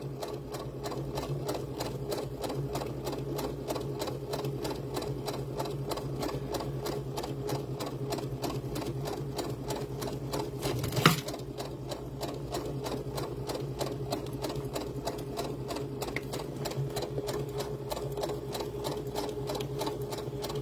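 A sewing machine stitches jute doll hair in loops, running steadily and close for about twenty seconds with one brief sharp knock partway through.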